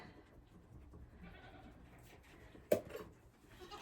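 A goat on a farm gives a single short, loud bleat partway through, set against quiet background rustling, with no talking.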